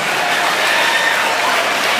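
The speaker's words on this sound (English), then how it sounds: "Let's give those parents a big round of applause." A graduation audience in Brooklyn applauds the parents, a thick, steady wash of many hands clapping together, loud and continuous with a faint crowd murmur beneath.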